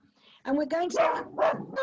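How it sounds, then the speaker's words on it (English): An irate dog barks several times indoors at someone at the front door, a few loud, close, yelping barks that break in over a person speaking during an online rehearsal. "that's my dog"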